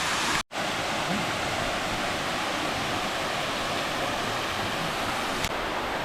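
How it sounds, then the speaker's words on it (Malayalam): Krem Chympe waterfall in Meghalaya roars as a loud, steady wall of rushing water close by, unbroken apart from a single momentary dropout. "മേഘാലയയിലെ ക്രെംചിപ്പെ വാട്ടർഫോൾസിൻ്റെ അടുത്താണ് കേട്ടോ ഞാൻ നിൽക്കുന്നത്"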